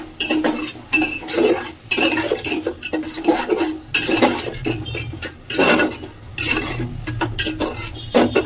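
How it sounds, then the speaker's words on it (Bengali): Rice being dry-fried in a pot for khichuri, heard as repeated metal spoon scrapes and clatters against the pot over a light sizzle, close and busy in uneven bursts. "আমি চালটাকে একটু ভেজে নেব।"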